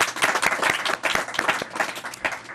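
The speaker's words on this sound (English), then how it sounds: "So a round of applause for doing that." A bookstore audience at a Books and Books author event in Bal Harbour Shops applauds warmly, with individual claps standing out in a fairly close, steady round.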